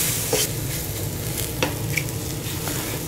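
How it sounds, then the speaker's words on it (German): Onion rings frying in a pan for Kässpätzle, a constant close sizzle with a few light scrapes and clicks as they are stirred, no talking. "wenn ihr das dann so umrührt, dass die Zwiebeln dann am Ende"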